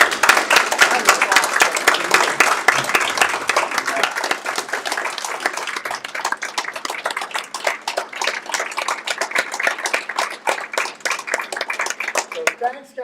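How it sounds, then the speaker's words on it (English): Meeting attendees give a round of applause for guests, dense clapping from a crowd that stays loud for several seconds and then thins to scattered claps before stopping. "let's give these guys a round of applause"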